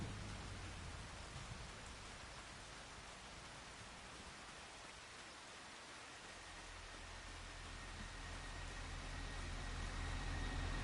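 Heavy rain in Farming Simulator 25 hisses steadily and evenly across the whole stretch, with a low engine rumble underneath that swells a little toward the end; no one speaks.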